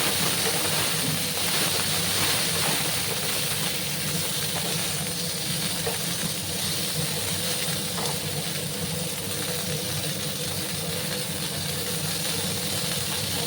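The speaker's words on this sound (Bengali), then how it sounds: "ঢেঁড়সগুলোকে একটু আমি ভাজবো।" Okra sizzles as it fries in a pan, a loud, continuous hissing crackle that holds steady for the whole stretch with no voices.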